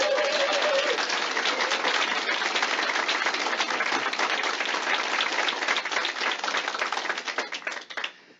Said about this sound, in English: And you deserve an applause for the work you've done.